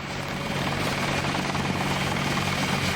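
The Deus Ex helicopter keeps up a heavy, unbroken engine and rotor roar, loud and close, holding steady throughout with no voices over it.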